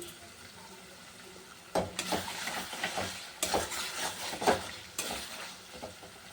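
Spice masala frying down in oil for a Bengali chicken curry, with a splash of water and a pinch of sugar added; a soft sizzle is broken by several loud scraping stirs of a spatula against the pan.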